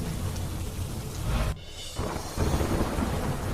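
A nighttime monsoon storm in Panchmahal, Gujarat, with heavy wind: loud, dense rain roars continuously while deep thunder rumbles underneath, briefly dipping quieter midway before the downpour surges back.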